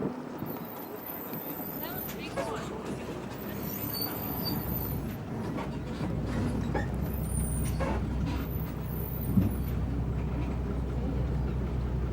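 A parked bus idles with its engine running, a low rumble under outdoor ambience, with a brief hiss near the end and faint voices in the background.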